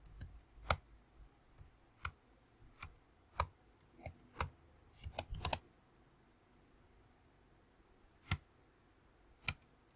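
Code is typed on a computer keyboard as sparse clicky keystrokes, single taps and a short quick burst with pauses between, close but quiet and alone.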